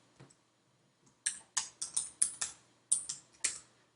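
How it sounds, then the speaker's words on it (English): Short burst of computer keyboard typing as a single word is entered, about eight crisp key clicks in quick uneven succession after a faint isolated tap, close and clear with no talking. "I'll just type the word Christmas."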